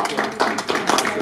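Applause from the audience at a Congolese conference session in November 2023, as a speaker is welcomed forward; dense, uneven clapping over about a second, close and fairly loud, with some voices mixed in.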